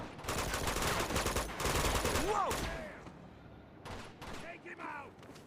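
Gunfire in the video game Uncharted 2, with sniper shots among rapid bursts of automatic fire that sound close and loud for the first three seconds, then thinner scattered shots with game effects, while a voice talks throughout.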